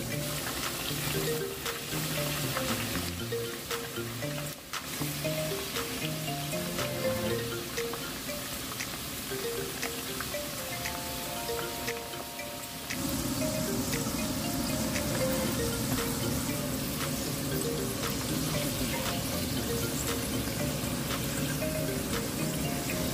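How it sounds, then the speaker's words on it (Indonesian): Homemade potato chips fry in hot oil over medium heat, a dense, steady sizzle that grows louder and fuller partway through as more slices hit the pan, close up with faint music-like tones behind. "Oke, sekarang aku mulai goreng."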